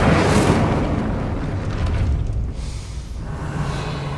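An Incendio fire spell is cast in Hogwarts Legacy, a loud, whooshing burst of flame that opens with a sharp crackling flare and then roars on as a broad rumble before easing off.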